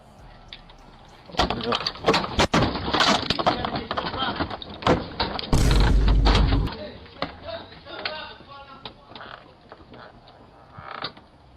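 A door creaks and closes during a tense nighttime exchange at a house, with a loud burst of handling and movement midway and scattered clicks and rustles around it.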